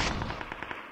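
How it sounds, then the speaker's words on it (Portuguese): A Mini-14 rifle fires in a shooter video game, giving a sharp report followed by a quick series of fading, rattling pulses over about a second. "só tô dando um tiro aqui de baixo"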